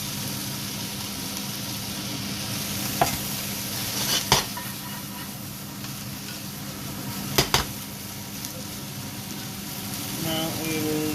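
Chicken pad thai noodles stir-fry in a hot pan with a continuous sizzle, punctuated by a few sharp utensil clacks against the metal.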